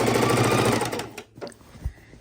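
A sewing machine stitching quilt binding whirs in a fast, steady run of stitches for about a second, then stops, leaving quiet handling noises.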